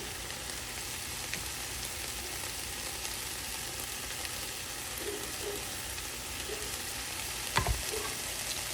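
Garlic frying in a pan for pineapple chicken tacos, giving a dense, even sizzle that continues throughout, with one brief clunk near the end.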